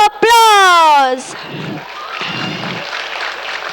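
Audience applause at a school annual fun show follows a loud voice calling out at the start, then continues as a steady, moderate spread of crowd clapping.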